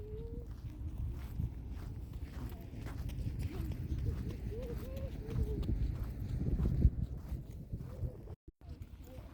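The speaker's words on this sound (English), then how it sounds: "Horse." A horse's hooves clip-clop steadily on a red dirt outback road, a soft rhythmic plodding under a constant low rumble of wind or vehicle noise, with faint voices in the background.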